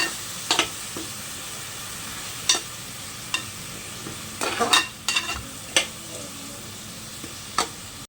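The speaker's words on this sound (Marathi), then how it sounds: "ह्याचा कच्चा स्मेल जाईपर्यंत आपण आहे ना हे वाटण परतवून घेऊया।" A ground spice paste for an Agri-Koli style mutton curry sautés in a pan, with a soft steady sizzle broken by repeated sharp scrapes and taps of a spoon stirring it, close and unaccompanied by speech.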